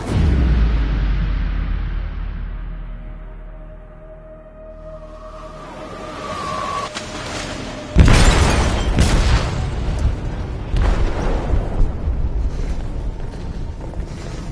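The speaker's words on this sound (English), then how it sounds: "They detonated an explosive in the hold." In Detroit: Become Human, an explosive detonates in a ship's hold with a sudden deep boom after a low rumbling lull and a rising tone, followed by sustained crashing and roaring debris noise.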